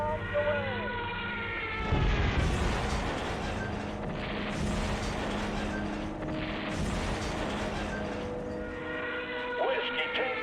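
Bombs from an air attack burst in the strategy game Shadow Empire, a series of loud rumbling explosions rolling over one another amid engine-like drone, with a voice heard at times.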